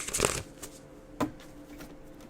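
Tarot cards are shuffled in a short riffle and then a softer second flutter of sliding cards, close and fairly quiet, with no voices.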